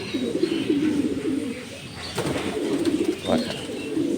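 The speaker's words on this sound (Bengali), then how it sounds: "আগুন চোখের একটি কবুতর।" Fire-eyed racing pigeon at a loft in Tangail, cooing in low, throaty rolls close by, with a brief rustle partway through and no voices.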